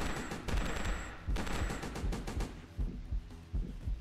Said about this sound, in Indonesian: Bukan minigun, apa sih? Submachine gun.